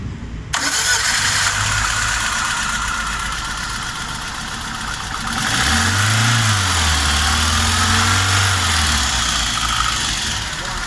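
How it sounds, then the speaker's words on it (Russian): A VAZ 2113 car with a misfiring cylinder cranks and starts, then runs roughly at idle nearby, rising briefly in a rev before settling, under some background noise. "Заводится, конечно, нехорошо, как будто в одном цилиндре проблема."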